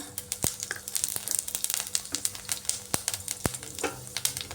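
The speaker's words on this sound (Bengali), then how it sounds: "পাঁচফোড়নটা ভাজা ভাজা হয়ে এসছে" Panch phoron spices and a bay leaf frying in leftover fish-frying oil, with a close crackling sizzle broken by sharp popping spits and spatters, no voices.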